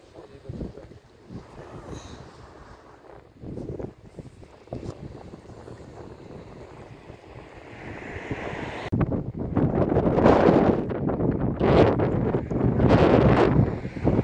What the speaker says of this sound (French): Il y a un vent près de montagne.